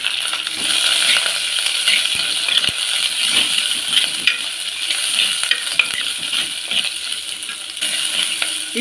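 Mustard seeds, dried and green chillies, curry leaves and crushed onion and garlic sizzle and crackle in hot oil as they are stirred in a pan, a continuous close frying hiss with scattered pops and scraping clinks.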